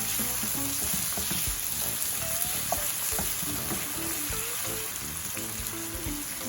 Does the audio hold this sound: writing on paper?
no